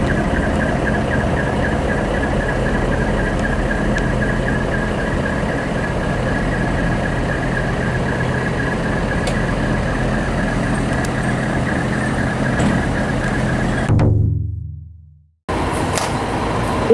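A decorated dekotora truck's engine runs with a steady low rumble while riding along, heard close and continuous before cutting out abruptly near the end, then returning briefly.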